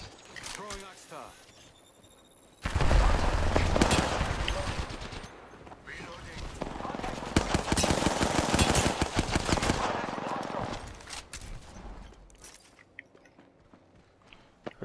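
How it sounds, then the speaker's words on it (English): Sustained automatic weapon fire in Apex Legends, loud and close, runs in heavy bursts for about eight seconds before tapering off, with quieter stretches before and after. "Taking fire, friends."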